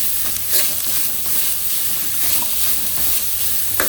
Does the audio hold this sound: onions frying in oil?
yes